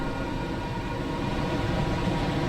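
Simulated Class 710 London Overground train from Train Sim World 5 running along, a continuous close rumble and drone with a faint tonal whine, steady throughout without speech.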